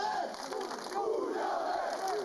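Football fans at a team presentation party beneath the covered stand of the Rocco stadium chant and cheer together in a loud, continuous crowd roar, with no other sound.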